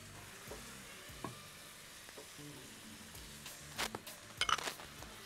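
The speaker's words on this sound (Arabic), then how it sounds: "تمام نشوح البصل كده شويه، ننزل معاه الفلفل الرومي مقطع صغنون كده" Onion and finely diced green bell pepper sautéing in a pan, a steady low sizzle with stirring scrapes and a few utensil clinks toward the end, close by with no talk.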